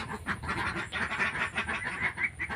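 Muscovy (Barbary) ducks, kept alongside egg-laying ducks on a small farm, quack continuously at close range in a busy, overlapping chorus.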